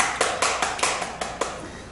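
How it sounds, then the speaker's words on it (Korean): A few sparse, distinct hand claps ring out in a lecture hall during a talk, about six separate slaps in an uneven rhythm rather than a full round of applause. "동의하시면 이런 데 박수 한번 보내주시죠"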